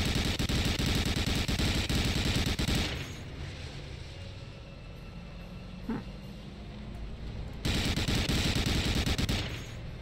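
Rapid bursts of gunfire from the Medal of Honor Allied Assault video game, loud and dense for the first few seconds, dropping away to a quieter stretch with one faint pop, then returning as heavy sustained firing near the end.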